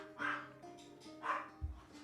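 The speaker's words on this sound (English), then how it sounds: "There's a dog in the alleyway" A dog in an alleyway gives two separate barks about a second apart, followed by a short low thump; fairly quiet and slightly distant, with no other sounds around them.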